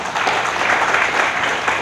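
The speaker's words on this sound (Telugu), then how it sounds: "అందరూ చప్పట్లు కొట్టండి ఒకసారి" An audience at a Vedic ceremony and festival on a stage claps together, making a steady, dense wash of applause that keeps up for about two seconds.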